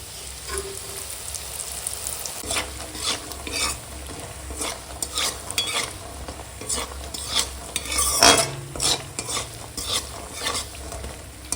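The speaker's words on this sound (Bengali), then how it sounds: "দেখো এখানে আছে খাঁসার ডালের বড়ি ওই বড়িটা ভেজে নেবো" Khesari dal bori frying in hot oil, stirred in a pan: a steady sizzle with repeated scraping and clinks of a spatula, close and alone without talk.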